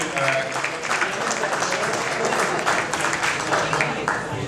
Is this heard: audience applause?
yes